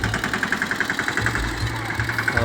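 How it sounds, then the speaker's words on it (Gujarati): A small tractor engine runs steadily outdoors on a kite-flying day, giving a loud, even chugging with a regular pulsing beat that continues throughout. "કેવું ટ્રેક્ટર છે તો તમે મિત્રો નાનું ટ્રેક્ટર છે"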